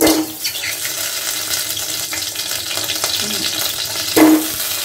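Raw mango pieces with two chilies frying in a little mustard oil, a steady close sizzle with faint stirring and a louder sputtering burst near the end.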